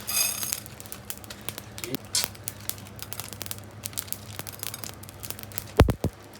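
Coriander seeds, cumin and dried red chillies dry roasting in a pan give off scattered crackles and light rustling pops, with a sharper burst of clatter near the end.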